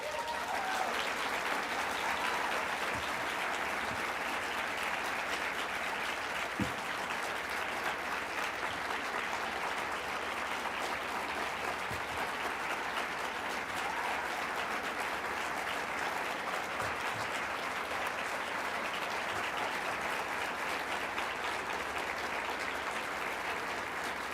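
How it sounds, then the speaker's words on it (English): Sustained applause from a society meeting audience for its new president, even dense clapping across the room lasting over twenty seconds, steady and fairly distant with no voices on top. "maybe you should have saved that applause until after my year"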